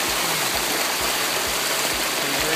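Warren Creek, near the Verde River, rushes steadily close by, a dense, constant wash of flowing water with no pauses and no voices.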